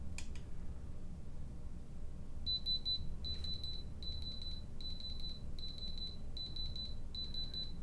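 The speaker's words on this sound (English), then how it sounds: "that was a lot just for you to listen to some beeps" A cheap electronic alarm clock from an online discount haul gives high-pitched beeps in quick groups of four, seven bursts repeating at a steady rhythm after a brief click, close but fairly quiet against faint background hum.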